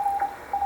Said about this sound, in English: this is basically a Morse code lesson